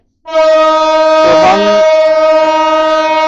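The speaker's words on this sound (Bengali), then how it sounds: "ট্রেন তার সিগন্যাল হর্ন বাজিয়ে দিয়েছে" The Parjatak Express sounds its train horn at a railway station in Dhaka before leaving for Cox's Bazar. The loud, steady horn blast starts suddenly and holds for about three seconds, with a brief bit of voices partway through.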